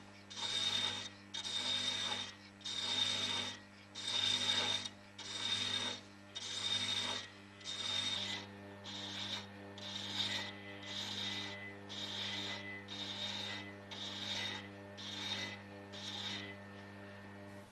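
A metal lathe turns at low speed while cutting a thread, giving a regular series of raspy scraping strokes about one per second over a steady mechanical hum.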